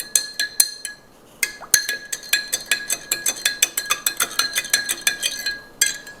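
A spoon stirs a sugary drink in a glass, producing a rapid, bright series of metallic clinks against the glass, close and loud with brief pauses between bursts.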